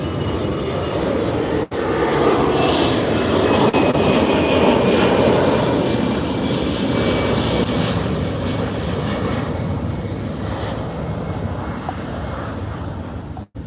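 Cebu Pacific airliner taking off from Roxas City, a loud sustained jet engine roar holding steady for over ten seconds before easing slightly, heard outdoors with no talking.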